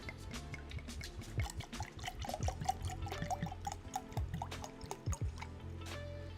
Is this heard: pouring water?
yes